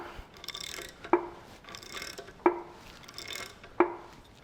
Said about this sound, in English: There's not a lot of effort in there pulling that liner.